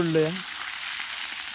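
Ground masala paste frying in oil for an egg curry, a brief voice at the start giving way to a steady, even sizzling hiss.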